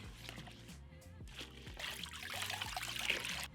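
Water runs and splashes in a kitchen sink while a hybrid cookware pan is rinsed, a soft trickle swelling into a fuller spray with clinks of the pan, fairly quiet and close.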